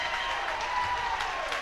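A basketball crowd at a boys' high school game between Olathe South and Gardner Edgerton cheers after a dunk, a sustained, loud roar of voices and clapping filling the gym.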